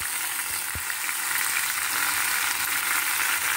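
Spinach, coriander, chilli, mint, onion and garlic fry in a pan with a steady, close hiss of sizzling oil, broken by one brief knock of a utensil early on.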